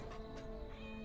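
Cat meows from an autumn-themed pet in a video game, two or three soft, drawn-out mews over a steady tonal game background, faint and fairly close.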